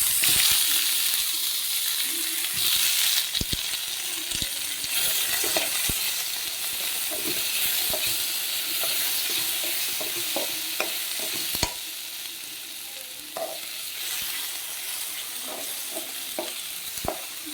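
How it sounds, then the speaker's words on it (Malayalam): Chopped tomatoes tossed into softened onions in a hot pan for a coconut-free mango curry, giving a steady sizzle with scattered stirring scrapes and clinks throughout, close and fairly loud, no talking. "നമുക്ക് കട്ട് ചെയ്ത് വെച്ചിരിക്കുന്ന തക്കാളി ഇതിലേക്ക് ചേർത്ത് കൊടുക്കാം"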